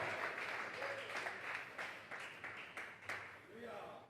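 A church congregation at a Spanish-language Thursday doctrine service claps hands together in an irregular, sustained round of applause, fairly faint and mixed with voices.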